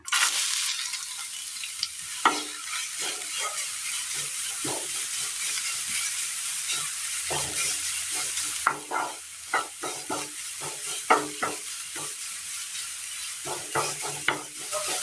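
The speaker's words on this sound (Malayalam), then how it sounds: "ഇനി ഇതിലേക്ക് നമ്മൾ ചോപ്പ് ചെയ്ത് വെച്ച് ക്യാരറ്റ് ഇട്ട് കൊടുക്കുക" Chopped carrots fry in ghee in a pan, with a constant loud sizzle and hiss throughout and frequent spoon scrapes and knocks from stirring, busier in the second half.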